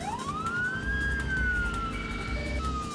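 A police siren in the video game Midtown Madness wails in a rising and falling sweep, loud and close, over a low engine rumble, with no talking.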